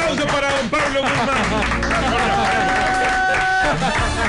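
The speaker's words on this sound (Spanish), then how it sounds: "¡Fuerte aplauso para don Pablo Guzmán!" Studio audience on a Spanish-language parody comedy show bursts into strong, sustained applause and cheering for a guest, with music and voices mixed throughout.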